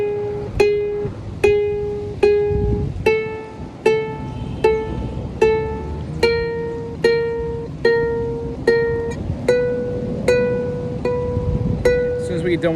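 A fretted string instrument is plucked in a slow, even four-note fingering exercise, each clear note ringing and decaying before the next, repeated over and over with no talking.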